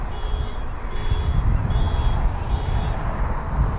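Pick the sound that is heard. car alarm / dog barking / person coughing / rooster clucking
car alarm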